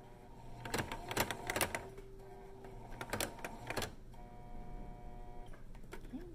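A sewing machine stitches fabric for a face mask in short, quick bursts of rapid clatter separated by quiet pauses, close and moderately faint, with a few soft handling sounds in between.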